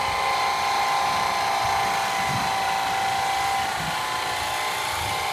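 A Swivel Sweeper Max floor sweeper runs with a steady, fairly loud motorized whine and a faint brushing texture underneath. The sound is close and continuous with no talk.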